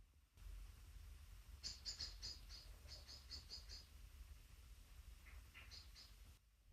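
Birds singing outdoors, heard faintly from indoors as a series of short, high chirps in two clusters over a low steady background hum.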